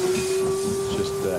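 A steam locomotive lets off a brief, steady hiss of steam with a sustained whistle-like tone riding on top, close and fairly loud.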